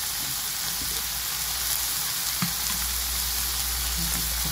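Cumin and coriander sizzle loudly in a hot frying pan, a dense unbroken hiss and crackle with an occasional faint tap from a utensil.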